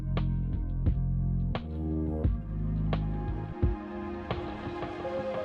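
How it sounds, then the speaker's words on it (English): Rising reverb synth transition made on an SP404 MK2 sampler: sustained tonal chords punctuated by sharp hits, with a washy reverb tail swelling upward over a few seconds, heard alone. "So it almost sounds like this big synth transition."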